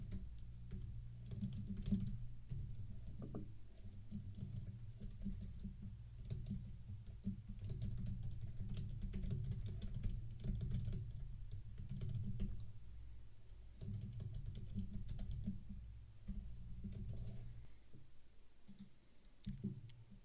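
Quiet, steady computer-keyboard typing runs for about twenty seconds as a brief prompt is entered into an AI website builder, the soft key clicks dense and continuous over a low room hum, with no talking.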